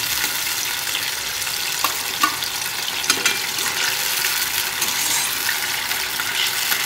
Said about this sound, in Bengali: মাছটা দিয়ে একটু ফুটিয়ে নেব।